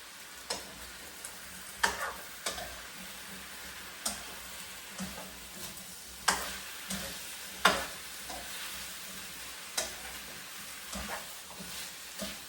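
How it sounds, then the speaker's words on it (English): Pumpkin and potato stew is stirred in a pot on the stove. A spoon gives irregular light knocks and taps against the pot over a faint, continuous low sizzle, with no one speaking. "I'm going to mix them all together."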